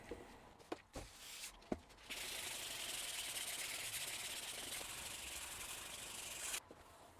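Plastic headlight lens on a salvaged BMW F30 being hand sanded with 400 grit sandpaper: a few short scrubbing knocks, then a long continuous close hissing rasp of paper on plastic that stops abruptly.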